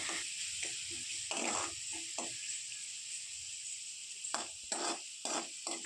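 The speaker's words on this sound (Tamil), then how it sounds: "வெங்காயம் வதங்கினதுக்கப்புறம் இஞ்சி பூண்டு விழுது சேர்த்து நல்லா வதக்கணும்." Ginger garlic paste and onions are sautéed in a pan for a mutton brain masala, a soft steady sizzle broken by repeated scraping and stirring strokes, close and fairly quiet with no talking.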